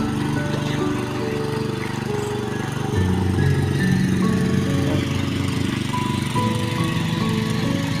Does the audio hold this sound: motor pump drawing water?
yes